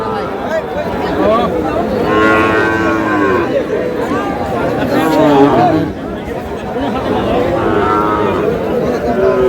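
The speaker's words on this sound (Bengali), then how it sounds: "শাহিওয়ালের ষাঁড় বাচ্চা কোয়ালিটি" Cattle at a busy rural livestock market in Madaripur, where five-month-old Sahiwal bull calves are for sale, moo and low under steady crowd chatter and bargaining voices throughout.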